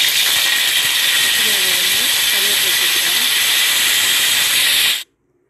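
Dried chillies sizzle in hot oil for mutton kulambu with a loud, steady hiss that stops abruptly near the end, while a faint voice speaks underneath.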